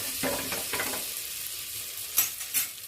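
A utensil stirs turmeric into melted butter in a pan, giving a soft sizzle and scraping that ease off, then two sharp metallic clinks near the end.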